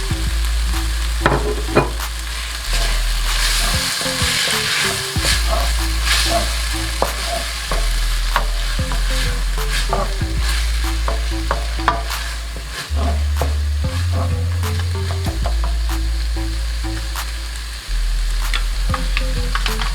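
Garlic and raisins sizzle loudly in a frying pan, with a spoon stirring and scraping in irregular strokes over a constant low hum of frying.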